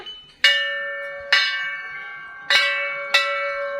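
A metal temple bell is struck four times at uneven intervals, each strike ringing clearly with a long, bright, sustained tone.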